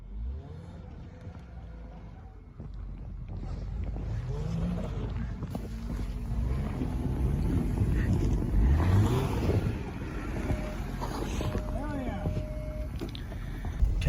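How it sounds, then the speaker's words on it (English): A vehicle drives down a snowy road during a blizzard, a continuous low rumbling engine and tyre roar with wind noise, building louder midway, while people talk inside. "Okay, we're just driving down this road"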